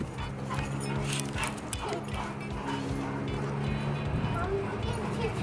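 Dogs playing at a playground bark, yip and whimper in overlapping bursts close by, with a voice talking underneath throughout.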